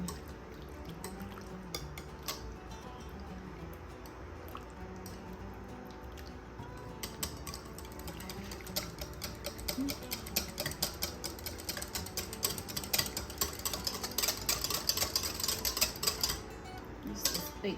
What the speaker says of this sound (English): I'm going to use the whisk to break it